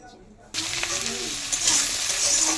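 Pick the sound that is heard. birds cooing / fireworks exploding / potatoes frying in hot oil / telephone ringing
potatoes frying in hot oil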